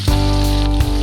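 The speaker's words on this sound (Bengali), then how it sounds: "পেঁয়াজটা এখানে ভাজা হয়ে যাবে।" Onions sizzle in hot oil in a frying pan on a home stove, a dense, steady crackle filling the short moment up close, with a low hum underneath.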